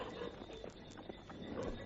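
Faint hooves clip-clop at a quick pace, a horse-drawn cab galloping down Regent Street, London, irregular light knocks over a soft background rumble.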